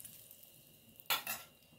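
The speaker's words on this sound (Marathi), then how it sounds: "थोडंसं गरम तेल पिठामध्ये घालूयात" Hot oil is poured into gram flour batter for onion bhaji, giving two short close sizzling hisses in quick succession after a quiet moment, with no talking.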